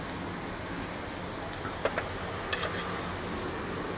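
Spices with garlic, asafoetida, turmeric and fresh coriander frying in hot oil for Maharashtrian pithla, a steady soft sizzle with a few brief crackles partway through, close and alone.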